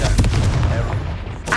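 Confringo fire spell cast in Hogwarts Legacy, a rolling run of loud booming blasts and crackling impacts packed densely across the moment, with a brief lull before one more burst at the end.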